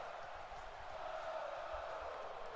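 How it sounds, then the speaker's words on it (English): Arena crowd in WWE 2K18 roaring steadily as a wrestler's entrance music plays, a dense, distant wash of cheering that holds level throughout. "Listen to the eruption of the crowd as this music plays"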